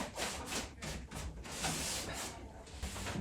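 Wax being rubbed onto a rusted, blackened steel surface: faint, rhythmic back-and-forth rubbing strokes, steady and close, with no talk.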